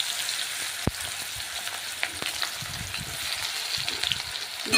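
Chopped onions crackle and sizzle in hot oil seasoned with panch phoron, a continuous close frying hiss with occasional sharp pops and light stirring throughout.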